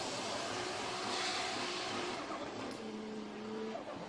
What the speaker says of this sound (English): Getting on limiter, big chuff, chuff, chuff with the turbo over the finish line.